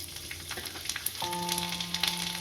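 Hot oil sizzles and crackles steadily as garlic cloves and asafoetida fry, a close, continuous spitting sound with a faint steady hum joining partway through.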